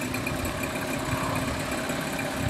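A Mercury 8 hp long-shaft tiller two-stroke outboard motor runs steadily just after a pull start, a close, even, buzzing engine drone with no talk.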